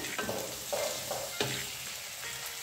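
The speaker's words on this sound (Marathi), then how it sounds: "मध्यम आचेवर हे व्यवस्थित सगळं फ्राय करून घ्यायचं आहे" Fresh peas and vegetables frying in a pan over medium heat: a continuous close sizzle, broken by several rhythmic stirring scrapes of a spoon against the pan, with no voices.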